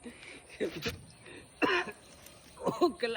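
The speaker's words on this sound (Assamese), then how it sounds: "কাহে ধৰিছে।" A person coughs several times in short, rough bursts with a little throat clearing, close by, spaced across a few seconds while climbing down from a water tank.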